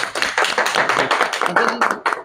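A crowd or group claps during a Hindi TV interview, with quick, dense, uneven hand claps sustained throughout at close range and a voice faintly audible beneath.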